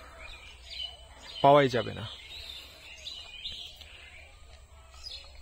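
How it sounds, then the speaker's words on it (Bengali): Small birds chirp and call faintly on a foggy village path, with thin high twitters scattered throughout and a short burst of a man's speech partway through. "আপনারা কি যে পাখির আওয়াজ শুনতে পাচ্ছেন?"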